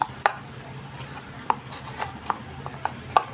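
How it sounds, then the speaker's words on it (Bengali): Bread dough for homemade bun bread kneaded by hand, with soft irregular slaps and taps over a quiet, muffled rubbing background, close by. "এভাবে আমি মেখে নিচ্ছি"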